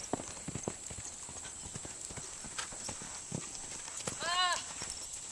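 A horse canters during a riding lesson, its hooves thudding in an uneven rhythm on soft ground, close but fairly quiet, with a short whinny near the end.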